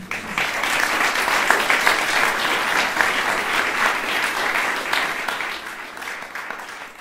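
A concert audience in a garden music venue gives sustained, dense applause welcoming a musician to the stage, with steady clapping that holds for several seconds before tapering slightly.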